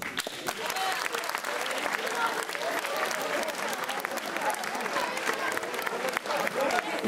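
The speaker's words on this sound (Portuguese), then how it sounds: "Respondam-me com palmas quem daqui ainda anda na escola." A comedy audience at a music festival breaks into sustained applause, a dense steady clatter of many hands, with a few voices cheering within the crowd.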